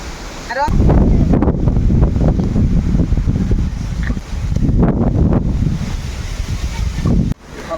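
Loud, steady rush of heavy rain driven by gusting wind roars close to the microphone, with a voice briefly heard beneath.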